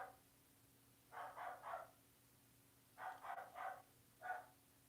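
A small, yappy dog barks at a distance in two quick bursts of about three yaps each, followed by one more lone yap, all faint against a quiet background hum.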